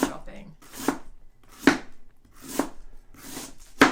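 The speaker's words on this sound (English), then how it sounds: "This is some excellent chopping." Vegetables for coleslaw being chopped with a knife on a cutting board, about six sharp, steady chops roughly one every 0.8 seconds, close and clear with no talking over them.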